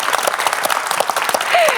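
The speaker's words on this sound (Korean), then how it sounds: "박수 한번 보내주시기 바랍니다" A studio audience at a broadcast poetry-reading show claps together, loud and close, a dense patter of hands that keeps going through the whole stretch.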